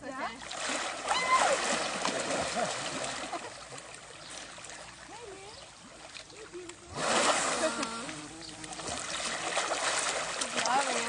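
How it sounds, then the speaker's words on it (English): Water splashes and churns in a river as someone jumps off an elephant, bursts of splashing rising and falling over running water, with people talking and reacting throughout. "She's saying I can jump off the elephant into the river."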